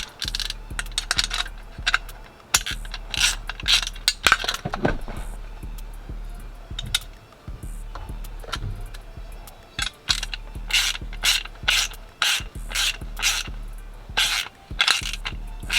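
A new passenger door window motor is screwed into a Cutlass door, with loud metallic clicks, ratcheting and clattering handling noises in irregular bursts over a steady low hum.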